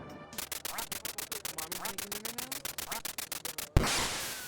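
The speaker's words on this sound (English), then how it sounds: "It's a radio-controlled duck that you shoot with this toy shotgun. It quacks, it's cute" A radio-controlled toy duck at a CES 2010 trade show quacks in a fast, steady run of evenly spaced electronic quacks, loud and close, ending with a sharp burst of noise.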